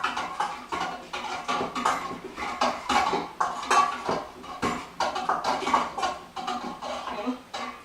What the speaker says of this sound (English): And I'm going to stir this around again.